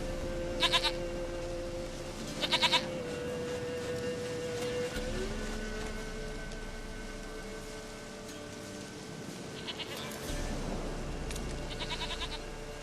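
A goat in the video game The Witcher 3 bleats in short wavering cries, a couple early and more near the end, over a low droning game ambience.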